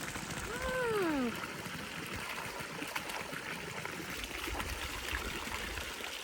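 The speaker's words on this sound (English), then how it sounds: "There's a lot of flow of water." Flowing spring water in a stream at a western larch tree, a continuous close trickle and gurgle with a brief whistle-like sweep early on and soft clicks scattered through.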